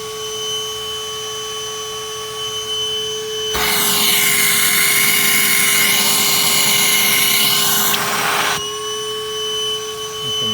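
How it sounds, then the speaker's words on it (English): A loud vacuum whines in a strained, high-pitched roar for several seconds as it sucks on a clogged air-conditioning condensate drain, then drops back to a steady hum. "Tell by the sound of the vacuum,"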